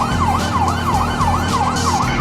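A loud wailing police siren in the video game GTA 5 sweeps up and down in a fast, regular cycle over a steady engine drone, close and continuous.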